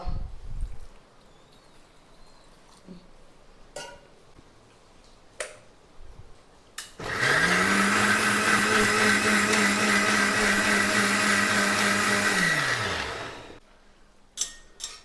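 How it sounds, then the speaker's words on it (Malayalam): A mixer grinder grinds a wet paste for a vegetable curry in one loud, steady burst of about six seconds, preceded by light kitchen clicks and clatter in a quiet room. "അപ്പൊ നമുക്ക് ഇനി ഇത് അരച്ചെടുക്കാം കേട്ടോ"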